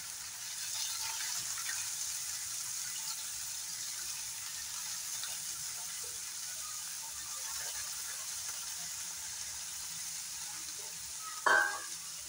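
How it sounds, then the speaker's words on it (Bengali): Steady, faint sizzling of onions frying in hot oil in a kadai, with a brief louder clatter near the end. "এই যে সাদা তেলটা কড়াইতে দিয়ে রেখেছিলাম, পেঁয়াজটা ফ্রাই করে"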